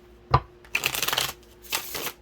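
Tarot cards being shuffled by hand: a single sharp snap, then two rustling bursts of shuffling separated by a short pause, close and clear with no talking.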